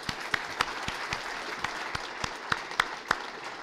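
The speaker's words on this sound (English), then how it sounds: "let's give our panelists a round of applause" Audience at a healthcare economic forecast forum applauding its panelists, a sparse scattering of distinct claps from a modest crowd, fairly close and alone without talk.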